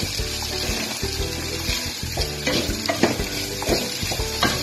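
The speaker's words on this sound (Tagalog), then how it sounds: "Yan, nagigisa na natin." Rice sautéing in a pan for risotto with mushrooms and sausage, loud close sizzling with scraping stirs and clinks as it is moved around.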